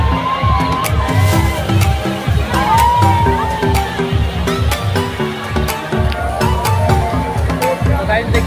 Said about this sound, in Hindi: देख सकते हो चारों तरफ लोगों का भीड़।